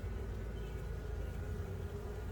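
A continuous low buzzing hum of many honeybees in a horizontal observation hive, close and steady, with no voices.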